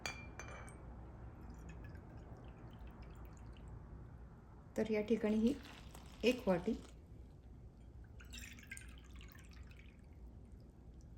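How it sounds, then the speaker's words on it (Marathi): Water is poured from a measuring bowl into pearl millet flour mixed with chopped coriander, making two short splashing pours in the middle while a person talks around them. "ज्या वाटीने आपण पीठ मोजलं होतं त्याच वाटीने आपण पाणी मोजून घेणार आहोत"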